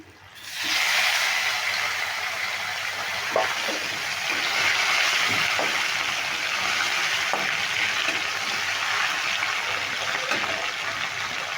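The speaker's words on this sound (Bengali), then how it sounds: "এবার ফোড়নটা খুব ভালো করে ভেজে নেব আর এখানে আছে টমেটো কুচি টমেটো কুচিগুলো দিয়ে দিচ্ছি" Chopped tomatoes drop into a hot pan of spice tempering with green chilies, cooked for a mustard and brinjal fish dish; after a brief quiet start, a loud, even frying hiss holds throughout with a few soft stirring knocks.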